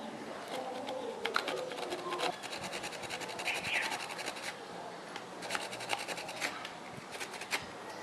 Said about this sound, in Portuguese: Como o bambu é oco, né, a gente precisa fazer como se fosse 2 cortes